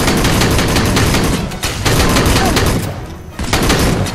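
Sustained automatic gunfire from an emplaced sentry gun in the Aliens: Colonial Marines game, a loud, dense, continuous rattle with brief dips, with faint talk mixed in.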